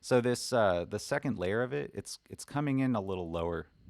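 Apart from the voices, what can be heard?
No everyday noises stand out.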